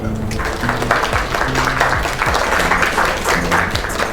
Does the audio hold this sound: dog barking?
no